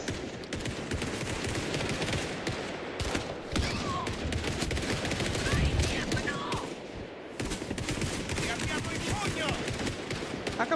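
Heavy volleys of gunfire in the Indiana Jones and the Great Circle game, rapid overlapping shots and bursts that run almost unbroken, with voices partly buried in the clatter.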